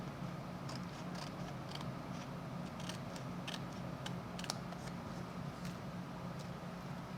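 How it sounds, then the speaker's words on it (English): Scissors snip along the edge of patterned designer paper for a handmade card, making a string of soft, close clicks at an uneven pace over faint background hiss, with no voices. "just follow that along with my scissors on the edge."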